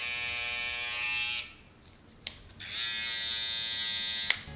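Babyliss FXOne low-profile hair trimmer hums with a steady high buzz, nearby, switching off briefly with a click and then starting up again.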